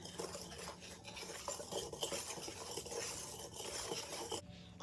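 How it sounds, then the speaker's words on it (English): A whisk stirs flour, cornmeal, baking soda and sugar in a bowl, making a quiet, close, continuous scraping with faint clinks against the sides. "Give it a quick whisk until well combined."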